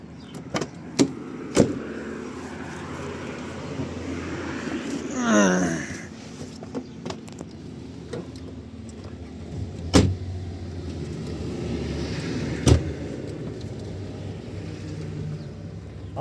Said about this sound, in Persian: بریم داخل ماشینم بشینیم